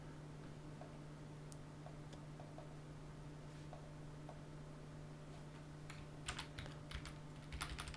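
Typing on a computer keyboard, faint and sparse at first, then a quicker cluster of key clicks near the end over a low steady hum.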